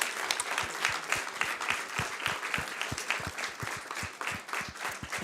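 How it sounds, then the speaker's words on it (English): An audience at a civil society forum applauds as a team is called onto the stage, brisk continuous clapping with distinct individual hand claps standing out, fairly close and steady throughout. "This is your applause."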